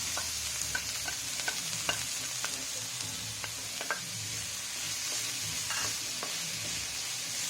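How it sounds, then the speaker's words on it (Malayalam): Onions and green chillies sautéing with ginger garlic paste for chicken cutlets, a steady close sizzle broken by light, regular spatula stirs and scrapes in the pan, with no one speaking. "അതിൻ്റെ പച്ചമണമൊക്കെ മാറി വന്നൊന്ന് സോട്ടായിട്ട് ഉള്ളിയും പച്ചമുളകും ആഡ് ചെയ്ത് കൊടുക്കാം"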